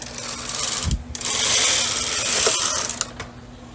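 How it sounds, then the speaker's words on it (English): A knitting machine carriage slides across the needle bed knitting one row of a bulky Fair Isle yoke pullover, a steady close mechanical whirring rush that swells for about two seconds with a thump near the start. "And also I'm going to set the carriage for normal knitting. Knit 1 row,"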